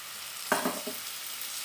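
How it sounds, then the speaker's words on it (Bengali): A spice masala mixed with raw cashew paste and a little water fries in a pan while being stirred, with a faint background sizzle and a few quick scraping strokes close by. "তাহলে মশলাটা আর একটু ভালো করে ভাজা হবে"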